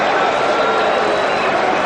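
Cricket stadium crowd at a 1992 World Cup semi-final between Pakistan and New Zealand, a dense, steady roar of many distant voices filling the whole moment without breaks, loud and continuous.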